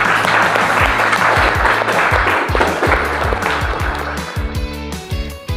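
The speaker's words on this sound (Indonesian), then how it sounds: "Tepuk tangan terus." Audience applause at a school presentation on a smart green building design, dense sustained clapping from a crowd, loud and steady before tapering slightly at the end.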